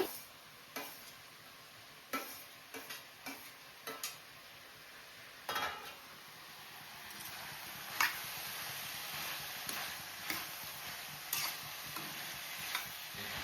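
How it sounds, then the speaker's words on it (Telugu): Chopped spiny gourd pieces fry and get stirred in a hot pan, a steady sizzle broken by repeated scraping and clattering strokes of a spoon against the pan, close and clear with no talking. "చిన్న ముక్కలుగా కోసుకున్న ఈ ఆగాకరకాయలు అన్నిటినీ కూడా వేసుకొని వేయించుకోవాలి"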